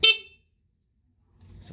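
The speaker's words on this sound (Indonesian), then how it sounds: "kita dengarkan dulu suara klakson" The old stock horn on a Kawasaki Ninja RR motorcycle gives one short, loud close beep that dies away quickly, followed by silence and then a low background rumble.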